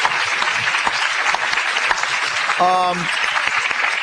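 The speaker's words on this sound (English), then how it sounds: "Just another round of applause for our moderator, Father Jim Fleming, and our panel tonight." Audience applause for a moderator and panel at a university evening discussion event, sustained mixed clapping throughout, with a brief tonal chime or beep near the end.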